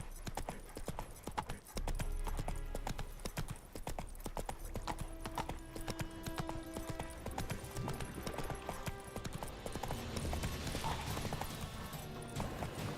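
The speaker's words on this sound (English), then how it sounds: "I can't drive this damn horse, man." Horse hooves clip-clopping in the video game The Witcher 3: Wild Hunt, a steady rhythmic trot running throughout, mixed with game sounds and occasional faint voices.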